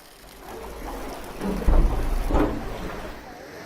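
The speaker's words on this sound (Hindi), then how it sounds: "पिछले 8 घंटों से तेज बारिश हो रही है" Heavy rain pours steadily during a Gujarat downpour that has lasted eight hours and caused flooding, a dense hiss carrying deep rolls of thunder that swell loudly in the middle and then fade back into the rain.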